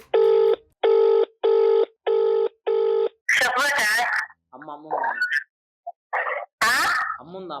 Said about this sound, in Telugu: ఒకసారి వాళ్ళకి ఫోన్ చేసే ప్రయత్నం చేద్దాం మనము